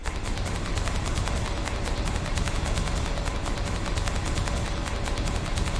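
Rapid bursts of gunfire, dense and continuous like automatic weapons, loud and unbroken throughout with no voices.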